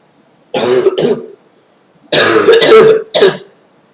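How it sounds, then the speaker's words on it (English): Two bursts of harsh coughing and throat clearing, close and fairly loud, the first short and the second longer with a quick final hack. "I'm coughing, clearing my throat."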